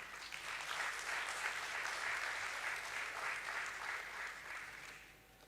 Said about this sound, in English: I'll request Mr. Vinayak Patankar to join us on the stage with a huge round of applause